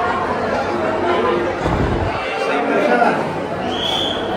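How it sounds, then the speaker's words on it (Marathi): Dense crowd chatter from a large gathering of pilgrims at the Tuljapur temple, a steady hum of many overlapping voices close around throughout. "भरपूर गर्दी भरपूर"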